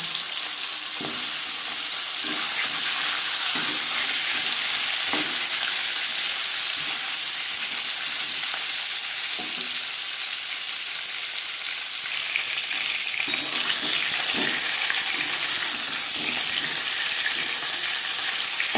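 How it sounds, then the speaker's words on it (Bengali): A marinated rui fish head fries in hot refined oil, making a strong, continuous sizzle with occasional stirring knocks, close and unbroken for nearly twenty seconds. "তেল গরম হয়ে গেছে এবার দিয়ে দেবো ম্যারিনেট করে রাখা মাছের মাথা"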